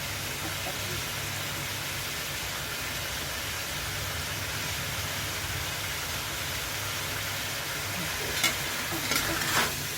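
Onion stir-fried with crab and curry powder in a pan, a steady close sizzle and scraping stir running throughout, with a few sharper clatters near the end.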